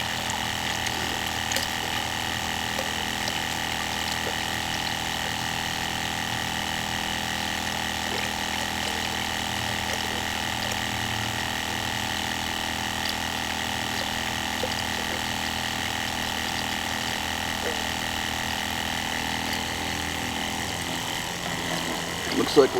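A small water filter pump draws water from a bucket with a steady, low mechanical hum and faint gurgling, continuous and close, ending in a few small clunks.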